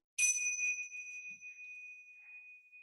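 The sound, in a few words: bell ringing for musical statues game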